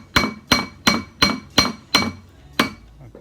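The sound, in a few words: hammering clipped rivet ends down on a piece of steel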